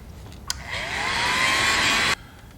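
A heat gun blows a steady, loud whoosh of hot air over a painted fishing bait for about a second and a half, starting with a click and cutting off abruptly, with no talking.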